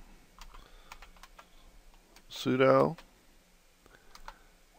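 Keys tapped on a computer keyboard while entering a terminal command, a quiet scatter of light clicks with a brief louder burst of sound midway.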